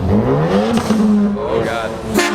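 A Ford Focus ST revs hard at a car meet, its engine note rising and falling before a sharp turbo blow-off valve whoosh near the end, with people talking underneath.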